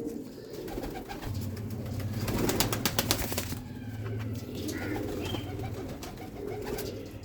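Salara pigeons coo in low, repeated throaty bursts nearby, with brief wing flaps and faint background noise throughout.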